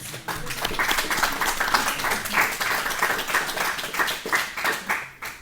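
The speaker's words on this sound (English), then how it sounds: "So let's give them a round of applause." Church congregation applauding during a Sunday service, a dense, steady round of clapping that holds for several seconds before tapering at the end.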